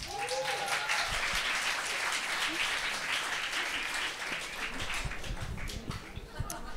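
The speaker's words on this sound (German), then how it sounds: "Und Applaus dafür." Applause fills a MensaBar party as the audience claps, continuous dense clapping at moderate level for several seconds, with some scattered laughter and voices.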